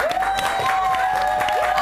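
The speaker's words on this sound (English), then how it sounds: "applause." Studio audience on a live daytime TV talk show clapping and cheering, a steady dense wash of applause running the full length with a brief whoop of crowd voices over it.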